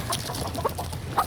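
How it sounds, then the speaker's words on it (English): Backyard hens clucking close by in a series of short, repeated calls that carry on steadily through the brief moment. "Chickens. Who knew? They really have a mind of their own."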